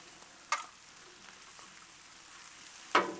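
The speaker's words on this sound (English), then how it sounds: "So now what we're going to do, we're going to spread this cabbage out." Cabbage frying on a Blackstone flat-top griddle gives a faint, steady low sizzle, broken by two sharp metallic scrapes or clanks, one early and one near the end; no voices.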